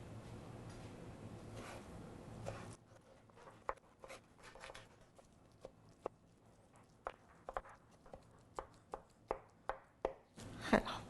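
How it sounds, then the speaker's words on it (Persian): Squeezed spinach being chopped with a knife on a board for an Iranian spinach and yogurt dip, a steady run of sharp, close knife taps after a quieter opening with no talk. "بعد از اینکه آبش کاملا گرفته شد، من اینو خردش میکنم"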